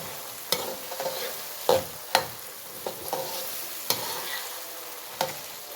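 Green peas for a matar aloo pulao sizzle in a pan while a spoon stirs them, with several sharp scraping clacks of the utensil against the pan over a steady frying hiss, no voices.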